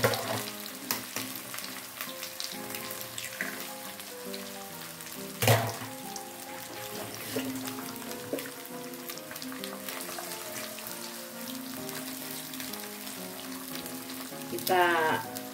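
Eggs stir-frying with salted mustard greens in a pan, a steady soft sizzle with scattered crackles, spatula scrapes and a couple of louder clanks, close and continuous without talking.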